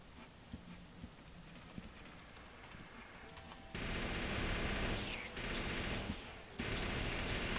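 Rapid gunfire erupts during an enemy attack in the video game Factorio: quiet scattered clicks at first, then a loud, dense, continuous automatic barrage that dips briefly before resuming at full intensity.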